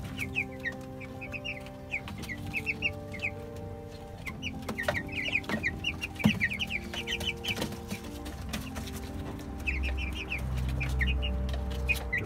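Broiler chickens cluck and chatter in a backyard tank lined with wood shavings, a busy overlapping flock of short calls close by, with occasional soft bumps and scratching underneath.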